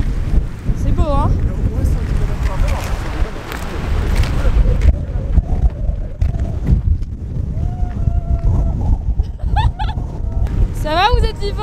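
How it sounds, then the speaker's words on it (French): Strong wind buffets the microphone outdoors in Iceland, a loud roaring rumble that surges in gusts, with people talking and calling out over it throughout. "je me fais pousser par le vent"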